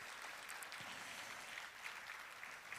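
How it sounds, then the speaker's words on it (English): Quiet, steady applause from a conference audience for the moderator at a defense dialogue plenary session, a continuous patter of clapping heard from a distance and never rising to loud. "please give another big round of applause to our moderator"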